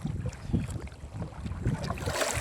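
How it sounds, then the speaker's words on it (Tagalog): Gusty wind buffets the microphone in a rough, blustery rush with uneven low thumps, loud and close. "Malakas na hangin. Malakas na."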